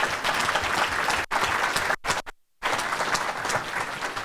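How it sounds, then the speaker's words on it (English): Audience applause at a candidates forum, a steady crowd of clapping broken by brief cutouts before resuming at full strength. "A round of applause."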